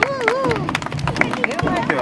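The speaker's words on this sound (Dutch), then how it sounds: "een applaus voor Kees" Audience clapping at a local event in Tholen honouring the first youth ambassador for Schoon, a steady patter of hands over two seconds, mixed with crowd chatter and a voice talking over it.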